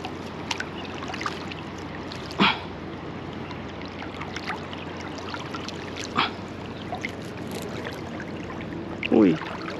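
Strong river current rushing over rocks, a steady broadband wash of flowing water with a few sharp splashes and knocks standing out.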